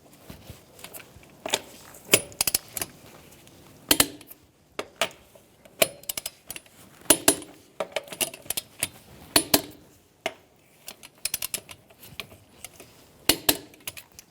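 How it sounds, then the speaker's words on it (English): Wrench torquing rear wheel lug nuts on a 2014-2018 Subaru Forester to 89 foot-pounds, heard as a series of sharp, close metallic clicks and clacks in irregular bursts, with quiet gaps between them. "Now we're going to torque our rear wheels to 89 foot-pounds in a star-like pattern."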